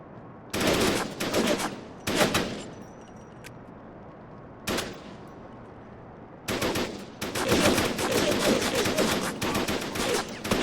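Rapid automatic gunfire in the PS2 game Syphon Filter: The Omega Strain, fired in several bursts of varying length separated by short pauses, with a long sustained volley toward the end, fairly close and with no talk.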